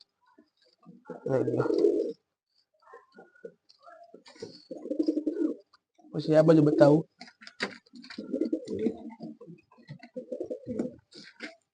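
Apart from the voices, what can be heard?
pigeons cooing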